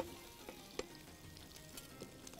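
Lamb meat frying in a pot for mandi, seasoned with cinnamon, cardamom and salt, gives a quiet steady sizzle with a few faint clicks and stirring knocks and no voices.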